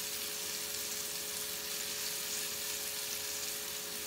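Beef pieces searing in a single layer in a hot Aga pan give a steady, even sizzle throughout, close and moderately loud, with no talking.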